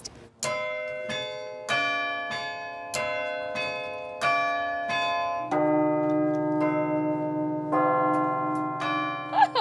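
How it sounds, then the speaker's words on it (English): Carillon bells of Bourneville ring out in a slow series of clear, resonant strikes, each note sustaining and overlapping the next, then a denser cluster of chimes sounding together near the end, loud and close. "will I get to ring the bells of Bourneville today?"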